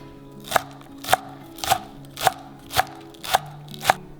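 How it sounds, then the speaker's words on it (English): Knife chopping three green onions on a board, seven crisp, evenly spaced chops about half a second apart, close and clear with no talking. "I will use 3 green onion, and I'm going to chop them."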